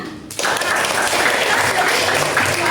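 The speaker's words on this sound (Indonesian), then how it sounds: "tepuk tangan" A classroom of students breaks into sudden applause during a school guidance lesson, a dense, loud burst of clapping that starts abruptly and holds steady, with faint voices mixed in.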